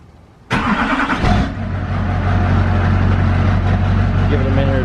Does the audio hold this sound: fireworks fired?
no